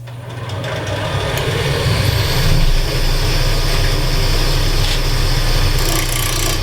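A wood lathe spins at around 2,000 rpm with a steady hum and faint rattle, while a spindle gouge makes light scraping cuts on an off-center workpiece held by a bolt, close and without talk.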